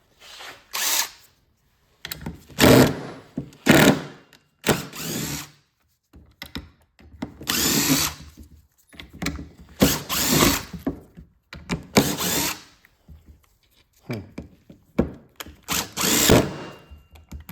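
A water-damaged DeWalt impact driver under repair whirs in repeated short bursts, each a second or two long and separated by brief silences, loud and close with no talking.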